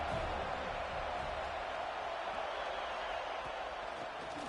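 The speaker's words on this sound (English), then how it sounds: "Big third down as the crowd gets behind this defense." Stadium crowd roar in a college football video game, a dense, steady wash of cheering noise throughout with no distinct breaks.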